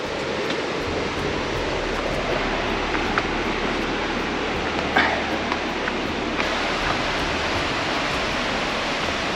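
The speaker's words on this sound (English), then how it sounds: "I can kind of hear water just in the distance" A waterfall in Bali gives off a steady, even rush of water from some distance away, a constant wash of noise with a few faint scuffs and ticks close by.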